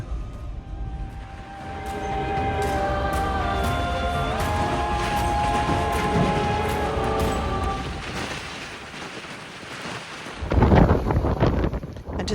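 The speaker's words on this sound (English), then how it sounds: "Got the wind behind us now" Strong wind sweeps across an open beach, blowing sand and buffeting the microphone with a steady roar. A sustained tonal drone sits over it, and a harsh, louder gust bursts in near the end.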